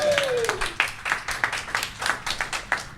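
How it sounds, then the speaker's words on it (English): Live audience at a podcast recording clapping in steady rhythmic unison, a dense run of claps with cheering and a brief whoop at the start. "Clap for yes."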